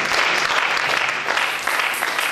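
A church congregation at an evangelical service in Yverdon applauds: dense, steady clapping from many hands that fills the whole moment without a break.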